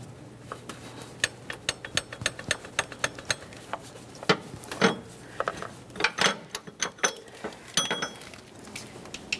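A torque wrench ratchets in repeated clicks and clinks, tightening a water pump mounting bolt to 180 inch-pounds on a 3.5L V6 engine of a 2011-2020 Toyota Sienna. The metallic ticks come up close and irregular, with tool handling between them.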